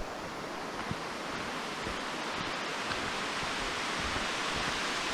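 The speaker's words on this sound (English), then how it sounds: "And here's another waterfall." Steady rushing water fills the air, a constant broadband roar like a waterfall heard from nearby, with no voices.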